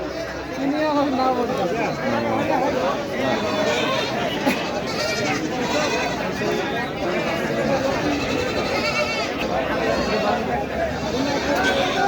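At the busy Baneshwar goat market, bleating goats call out again and again over a dense, continuous babble of traders' voices, with someone talking nearby.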